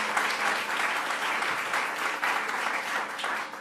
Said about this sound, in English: Let's give a round of applause to Lenny for what he does.